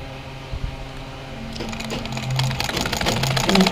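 A sewing machine stitches a hem on salwar fabric, its rapid mechanical rattle starting after a quiet moment and running steadily close by, growing slightly louder.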